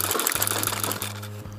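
An embroidery sewing machine stitches a bee-and-flower design, running in a steady, rapid mechanical hum with regular short pauses between bursts of stitching, close and clear.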